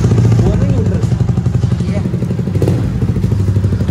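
A Yamaha R15 V3 motorcycle with an Akrapovic exhaust idles close by with a loud, throbbing exhaust, a steady rapid pulse with occasional blips of throttle.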